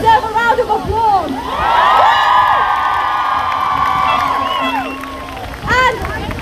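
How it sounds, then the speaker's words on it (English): A crowd at a Palestine protest in Manchester cheers and whoops loudly outdoors. Shouting voices rise and fall over a continuous roar for several seconds, with a fresh burst toward the end. "I think the guys here deserve a round of applause"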